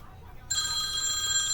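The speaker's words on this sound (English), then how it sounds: "My phone's answering, so I'll pause this." A phone starts ringing partway through, a steady electronic ring tone that continues to the end, loud and close, with no talk over it.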